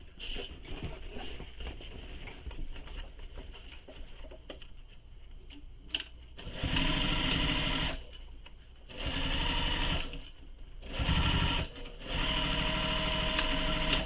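A sewing machine stitches a shoulder bag seam in four close, loud bursts separated by short pauses, after several seconds of quieter handling rustles and clicks.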